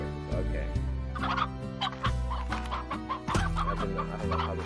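Hens cluck repeatedly in the Slime Rancher video game, a loud, close run of short clucking calls over a low sustained game music bed.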